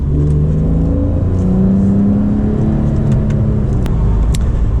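A Porsche 991.1 Carrera S flat-six revs hard under acceleration, its rising engine note loud and steady from inside the cabin with some road rumble beneath.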